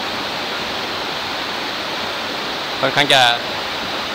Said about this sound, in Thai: ก็จะเป็นน้ำตกที่สวยที่สุดที่อยู่ในเขตของ น้ำตกเขาชะเมานะครับผม